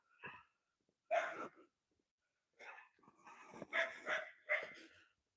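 A small yappy dog barks in short, sharp bursts, a couple of isolated yaps followed by a quicker cluster of four or five, fairly close and with quiet gaps between.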